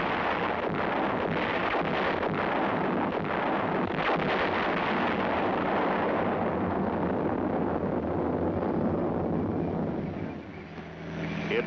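U.S. Army field artillery firing, a dense, continuous rumble of heavy booms and blasts rolling together at a steady level, easing off near the end.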